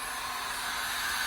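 Hot air tool blowing on a cello part during lutherie work, a steady, even hiss of rushing air held close throughout the short stretch.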